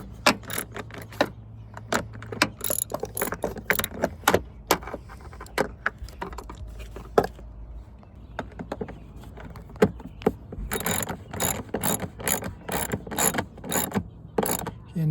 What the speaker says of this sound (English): And we'll go ahead and tighten each one of them.